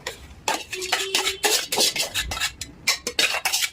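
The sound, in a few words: mixing rice into tamarind pulihora in a pan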